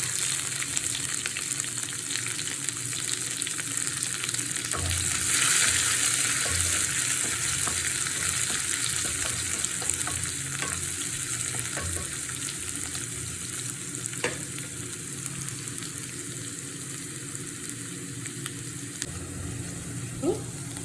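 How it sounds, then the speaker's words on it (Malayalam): Crushed shallots and garlic fry in a pan with a steady, close sizzle, broken now and then by stirring scrapes and faint clinks. "ചതച്ച് വെച്ച് ഉള്ളി വെളുത്തുള്ളിയും കൂടി ഇട്ട് കൊടുക്കും."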